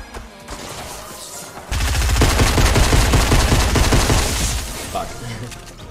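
Rapid gunfire in Fortnite: Battle Royale, a dense, loud burst of repeated shots lasting several seconds, with a brief quieter stretch before it begins.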